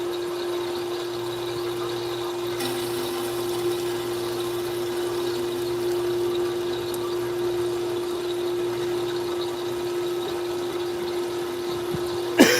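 A lake water pump runs steadily as air is purged from the line, giving a constant mechanical hum with a strong droning tone and a faint watery churn, unchanging for several seconds before a brief clunk at the end.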